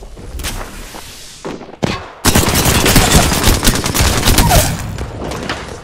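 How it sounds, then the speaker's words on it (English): Rapid automatic gunfire blasts at an enemy's shield in a sci-fi shooter game, loud dense bursts with a brief pause and thud before the sustained barrage resumes. "I shot at an enemy shield"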